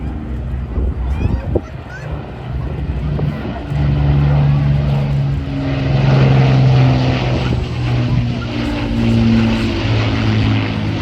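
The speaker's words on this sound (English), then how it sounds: "listen to these beautiful 4 Merlin engines. The Royal Air Force Battle of Britain Memorial Flight in Lancaster" An RAF Battle of Britain Memorial Flight Avro Lancaster bomber, City of Lincoln, with four Merlin engines, passes at an air show in Ayr, a loud droning propeller roar swelling and holding with a throbbing tone amid crowd noise.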